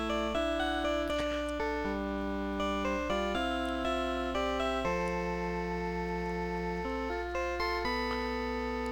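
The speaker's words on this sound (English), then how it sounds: "Godot's got a bass ringtone." A bass-heavy ringtone for Godot's phone in Phoenix Wright: Ace Attorney plays a sustained melodic run of low, steady tones, loud and alone with no talking over it.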